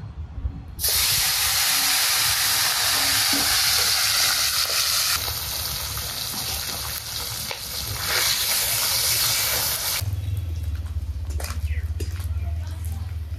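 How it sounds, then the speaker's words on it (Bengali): Small bata fish frying in oil, a loud, dense sizzle and hiss that starts suddenly and runs on steadily, with a low rumbling layer entering near the end. "সবগুলো মাছ ভেজে নিলাম"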